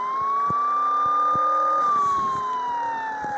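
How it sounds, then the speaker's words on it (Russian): A police siren in the video game Offroad Car X wails close and loud with a slow sweeping tone, accompanied by sharp clicks and thumps. "Ну тут 3 сигнала как максимум и сирена."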